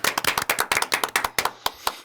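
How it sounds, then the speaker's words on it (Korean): A small group of party members clapping for a departing politician, roughly a dozen sharp, fairly quick claps that thin out toward the end, close and moderately loud, with no speech. "이야, 박수!"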